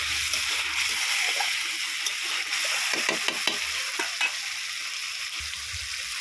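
Masala with turmeric and chili powder sizzles and fries in a pan for mutton while it is stirred, with scraping clicks from the spoon against steady frying hiss.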